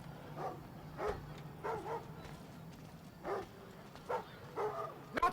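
Dogs in the stealth video game Thief on PS4 bark in short, separate bursts spread across the stretch, moderately close, over a low steady ambient hum with no talk.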